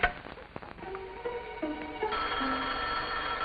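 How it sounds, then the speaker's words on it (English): An old-fashioned telephone bell rings in a 1950s sitcom room, a few bright repeated rings against faint background noise, fairly close and without speech. "That's the phone."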